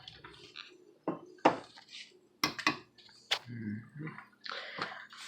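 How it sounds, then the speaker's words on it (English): A big spoon clanks and scrapes against a bowl while ricotta cheese is stirred into a mixture, giving quiet, irregular knocks and clinks close by. "careful when you stir it. and we're mixing this in"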